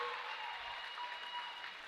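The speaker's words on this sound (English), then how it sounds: "He should get a nice round of applause from the home fans as he does" Home crowd at a high school boys basketball game applauding steadily for a substituted player, a sustained dense round of clapping with no talk over it.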